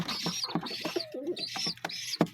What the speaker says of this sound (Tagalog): Mga kalapati ko.